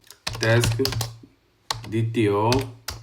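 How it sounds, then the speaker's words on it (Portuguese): Code being typed on a computer keyboard during Java programming, with rapid close clicks and clacks in two bursts while someone talks over them. "Então vou digitar taskDTO"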